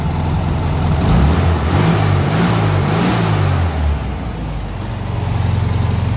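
An engine just back running after repair is revved as throttle is applied, loud and close, climbing and falling in a few pulls before settling back to a steady idle, with no talk.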